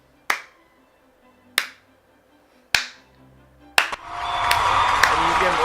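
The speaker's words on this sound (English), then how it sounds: "It was one of those moments where you want a slow clap to happen" Three sharp, evenly spaced single claps ring out about a second apart, then a fourth leads into a swell of rapid applause and crowd noise.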